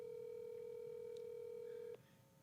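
A phone call ringing unanswered: one long steady electronic ring tone that holds for about two seconds, then cuts off abruptly, leaving faint background noise, with no speech.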